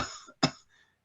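A single sharp cough bursts out on its own, loud and close, after a trailing breathy exhale, then fades to quiet.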